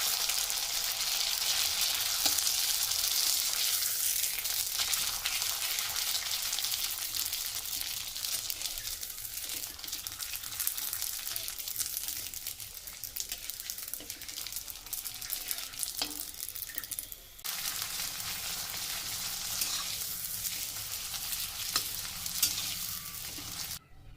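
Gobindobhog rice papad made with jackfruit leaves frying in hot oil, a loud continuous sizzle with stirring and occasional crinkly scraping, steady throughout with no speech.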